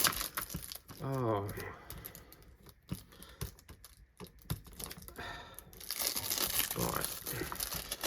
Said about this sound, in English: I'm going to get some of this cellophane off